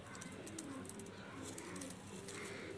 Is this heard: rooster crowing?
no